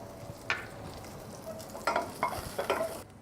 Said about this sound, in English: We're going to saute some chili to get it a bit of a flavor.